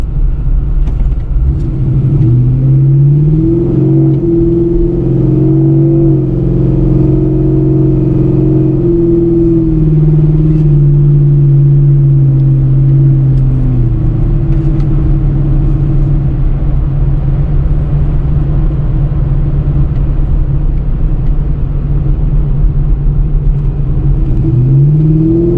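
A Pontiac G8 GT on its old exhaust setup revs loudly and steadily, the engine note climbing and falling through several sustained pulls with a deep, continuous rumble throughout.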